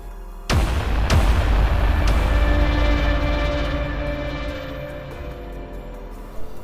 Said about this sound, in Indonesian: Suara ledakan terdengar di mana-mana.